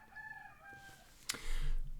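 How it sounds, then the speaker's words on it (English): A rooster crows in the background behind an indoor talk on Python sockets. The call is a faint, drawn-out wavering note, with a sharp knock partway through and a low rumble near the end. "Sorry about the rooster."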